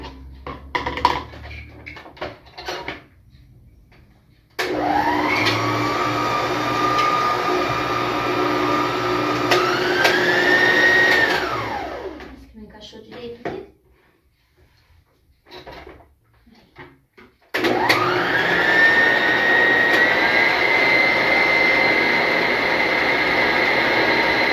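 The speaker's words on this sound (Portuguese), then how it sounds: "separei as claras e vou bater até virar clara em neve" An electric hand mixer beats separated egg whites toward stiff peaks for a cake, running in two long whirring bursts whose motor pitch rises and holds, with a quiet pause and small clatters between them.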